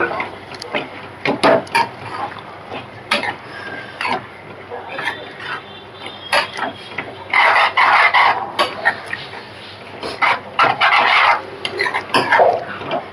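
Fenugreek curry with a couple of spoons of yogurt is stirred in a pan, giving repeated scraping and clinking of a spoon against metal in uneven bursts, with rooster-like clucks and background noise around it.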